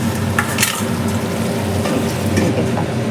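Fish frying in a pan in a home kitchen, a steady crackling sizzle with occasional stirring scrapes, close and fairly loud with no one talking.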